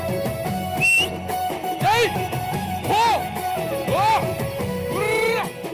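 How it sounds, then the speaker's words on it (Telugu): Short shrill whistle tones ring out over a loud folk song with a singing voice, a few bursts spread across the passage. "Sound whistle."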